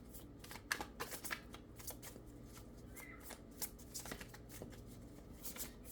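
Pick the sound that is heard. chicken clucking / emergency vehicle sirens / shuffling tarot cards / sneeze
shuffling tarot cards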